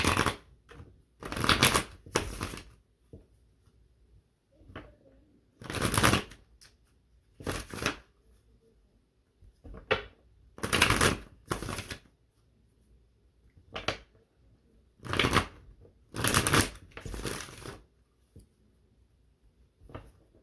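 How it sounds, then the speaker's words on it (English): Tarot cards being shuffled close up in short riffling bursts, separated by quiet pauses and a few soft taps. "Let me not shuffle over there."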